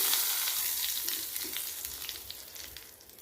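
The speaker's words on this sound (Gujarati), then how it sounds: "આપણે વઘારને ટાટા ઉપર નાખી દઈશું" Hot mustard-seed tempering poured onto boondi raita, giving a soft crackling sizzle that starts strongest and fades over a few seconds, with scattered pops.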